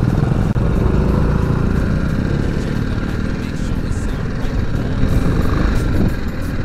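A BMW G310GS motorcycle engine drones loudly and steadily while riding off-road, a close, continuous rough roar with no break for the whole stretch.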